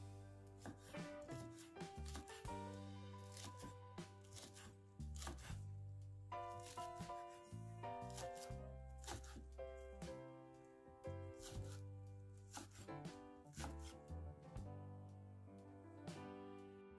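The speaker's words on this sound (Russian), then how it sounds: "Нарезаем." A knife finely chopping a bunch of green onions on a board, rapid irregular bursts of crisp taps and scraping strokes, close and fairly quiet, with soft music playing underneath.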